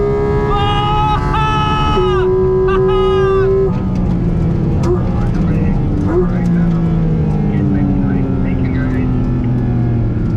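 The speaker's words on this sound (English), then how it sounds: "that engine note is outright arousing" A Porsche 911 GT3 or Cayman GT4 engine roars and revs loudly, its pitch climbing and sliding between gears, with a high whine layered on top throughout.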